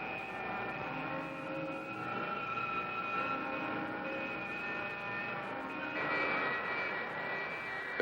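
Spacecraft engine thrust in a science-fiction film roars as a steady jet-like drone with layered tonal whines, moderately loud and continuous, swelling slightly near the end.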